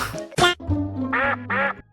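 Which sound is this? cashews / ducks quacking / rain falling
ducks quacking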